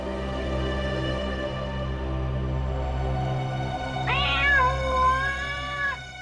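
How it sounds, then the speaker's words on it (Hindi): A cat meows in a village setting, one drawn-out, wavering call over a steady low hum, close and clear. "ये बिल्ली की आवाज कहां से आ रही है?"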